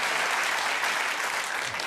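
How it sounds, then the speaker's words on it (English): Applause from the arena crowd at a World Snooker Championship match, a steady, full patter of many hands clapping throughout a short stretch with no talk over it. "Listen to the applause."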